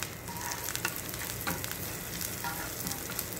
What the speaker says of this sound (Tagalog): So, fry natin hanggang mag-brown siya